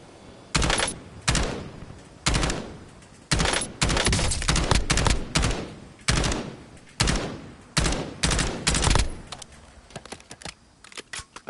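Gunfire in a Call of Duty battle royale match, repeated bursts of shots in uneven clusters, some rapid strings and some single cracks, loud and close with short gaps between.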